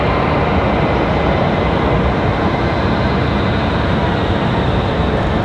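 A small aircraft on very short final at Raleigh-Durham airport gives a loud, continuous broadband roar that stays steady and close throughout, with no talk.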